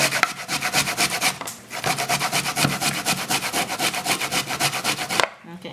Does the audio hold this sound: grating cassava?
yes